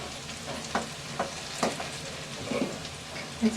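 Onions frying in plenty of oil, a crackling sizzle broken by repeated spatula scrapes and stirs every second or so, close and moderate in level without speech.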